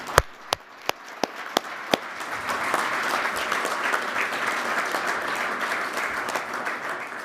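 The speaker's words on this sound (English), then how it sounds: "Let's have one more round of applause for these outstanding young men." An audience at the Ivy League's Bushnell Cup presentation applauds the award finalists, opening with a few loud isolated claps that quickly swell into sustained, dense clapping from a large crowd.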